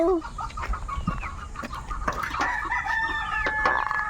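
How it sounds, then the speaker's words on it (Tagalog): A rooster crows loudly in a long drawn-out call, with hens clucking around it in a busy farmyard. "Video mo sa manok guys"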